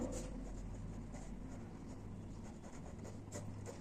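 A pen scratches across paper in quick, faint strokes during a geometry construction lesson, close-up and quiet against a low steady background hum.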